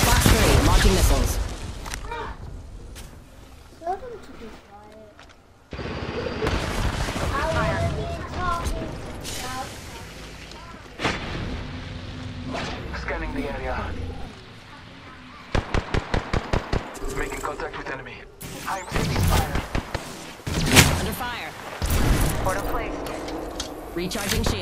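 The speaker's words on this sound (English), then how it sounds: "Launching missiles." Missile launches in Apex Legends, a burst of sharp rapid cracks and booming blasts amid dense gunfire, explosions and game effects, loud and close, with a voice talking through parts of it.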